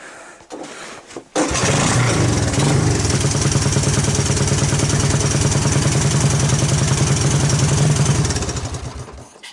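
A Honda ATC200S three-wheeler engine catches and runs steadily after a choke adjustment, with a loud, close, even drone that holds for several seconds before easing slightly at the end. No one speaks.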